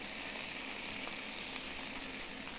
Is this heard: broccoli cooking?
yes